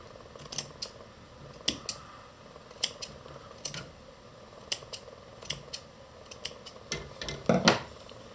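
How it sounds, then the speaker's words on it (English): Scissors snip yarn while a weaving project is cut free of a rigid heddle loom. About fifteen crisp, close snips are spaced irregularly, some in quick pairs. "And a few more snips."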